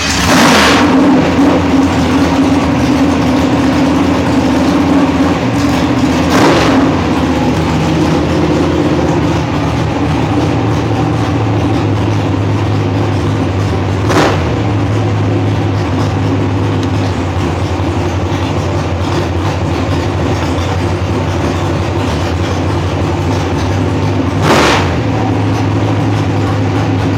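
A fuel-injected race car engine roars loudly and continuously at close range. Its pitch shifts slightly and a few sharp transients break through the drone.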